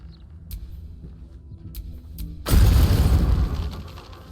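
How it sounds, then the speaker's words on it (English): An explosion in the video game Baldur's Gate 3 sets off a sudden, loud, rumbling burst that follows a stretch of faint, sparse game sounds and lingers for about two seconds. "That sounded like an explosion."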